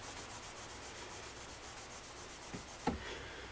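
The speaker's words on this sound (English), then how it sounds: "when you rub it off, that's when you can see your work and the beauty" A fret eraser rubs semi-chrome polish off the frets of a Kay K300 guitar, giving a faint, steady scrubbing hiss that runs throughout, with a brief soft knock near the end.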